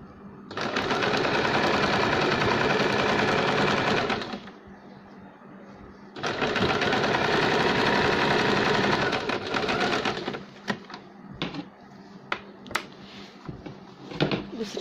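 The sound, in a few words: sewing machine stitching a baby cap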